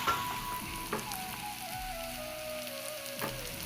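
Boiled chickpeas sizzle as they are tempered in a hot pan, a steady close crackle and hiss with occasional sharper pops, no voices.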